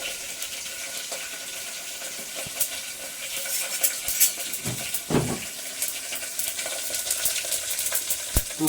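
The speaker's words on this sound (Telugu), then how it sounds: "తాలింపు కదా" Steady sizzling of tempering spices in hot oil for chicken curry, with a few sharp pops and crackles and a brief clatter partway through, no voices.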